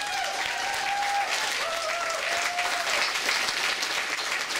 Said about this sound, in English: a round of applause to the players.